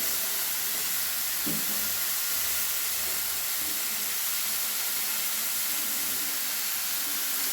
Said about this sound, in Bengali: এবারে পেঁয়াজ বাটা, টমেটো বাটা আমি ভালোভাবে একটু ভেজে নেব।